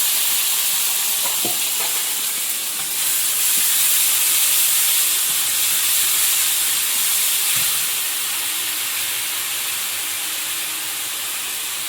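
Five-spice, bay leaf, onion, garlic and ginger paste sizzle in hot oil in a kadai, a loud, steady bright hiss lasting throughout with a few faint clinks and stirring knocks, no voices.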